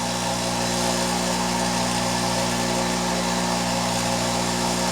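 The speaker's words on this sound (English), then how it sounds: "we'll use a Delta dresser on a Stanley grinder, and I've got this mounted on the tool rest" A Stanley bench grinder runs with a Delta wheel dresser mounted on its tool rest, giving a steady, loud, close motor drone with a constant hum and a rough grinding hiss throughout.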